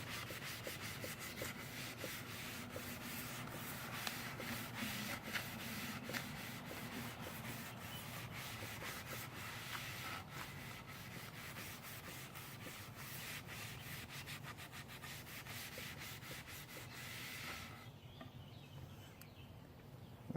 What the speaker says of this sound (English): So take a Scotch-Brite and scuff it off a little bit.